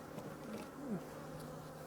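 Honey bees buzz during an early-season hive inspection while splits are being made, a soft, continuous drone with individual insects rising and falling in pitch as they pass close.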